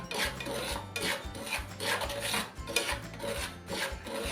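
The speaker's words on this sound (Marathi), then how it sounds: "आपण एक दोन मिनटासाठी हे व्यवस्थित परतून घेऊया" Salt is roasted in a pan for mango pickle, stirred with a steady, gritty rasping that repeats in quick strokes, close and fairly loud.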